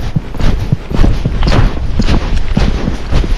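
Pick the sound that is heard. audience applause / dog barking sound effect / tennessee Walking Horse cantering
tennessee Walking Horse cantering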